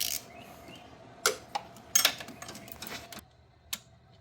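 Several sharp ratcheting clicks come from a torque wrench tightening the lower bolt of a serpentine belt tensioner to 16 foot-pounds on a 2016 Acura MDX. The clicks are scattered and fairly quiet over a low steady hum.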